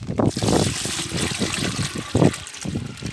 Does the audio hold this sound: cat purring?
no